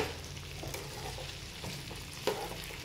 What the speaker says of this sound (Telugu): ఇప్పుడు బంగాళదుంపలని బాగా మగ్గనివ్వండి